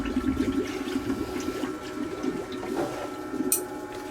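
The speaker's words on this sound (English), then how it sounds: "Good bubbling." Water bubbling and gurgling from a pump as hoses on a boat's Cruisair air conditioning system are flushed, a steady low churning wash with a brief hiss near the end, close and moderately quiet.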